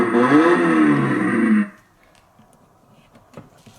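A kids' ride-on Eleanor Mustang toy car plays its electronic engine start-up sound effect, a loud revving tone lasting about a second and a half. It stops abruptly and leaves faint room noise.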